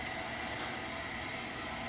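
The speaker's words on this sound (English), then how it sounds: "here's the toilet flush in action" American Standard Vormax toilet flushing, a steady, full rush and swirl of water heard up close, continuous for the whole stretch and fairly quiet.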